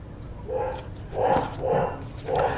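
A dog barks four times in quick succession, moderately close and clear, with no talking over it.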